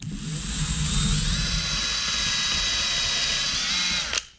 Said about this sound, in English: Now time to drill out the holes.